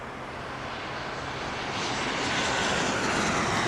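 An airplane engine roars at Las Vegas airport, a broad steady rush that swells gradually louder as the aircraft comes nearer.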